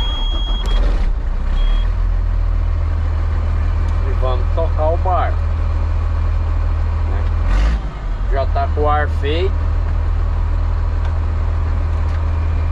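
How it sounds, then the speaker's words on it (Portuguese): A Mercedes truck engine runs with a loud, constant low rumble. Short beeps and Portuguese talk from the cab sit over it, and the engine note dips briefly partway through. "Vamos dar uma volta de caminhão."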